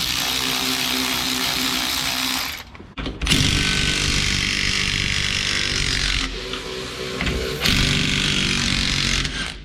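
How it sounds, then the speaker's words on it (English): A power impact tool loosens the U-bolts on the rear leaf springs of a Dmax/Colorado ute during a lift kit install, giving loud, sustained whirring bursts broken by short pauses, close and alone. "We're going to start off by loosening, not removing, just loosening both side U-bolts."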